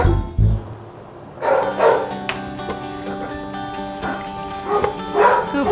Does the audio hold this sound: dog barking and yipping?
yes